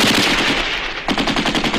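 Machine gun fire rattles through a war-film battle scene, loud rapid bursts that dip briefly into a quieter gap before a fresh, sharper volley resumes, with no voices over it.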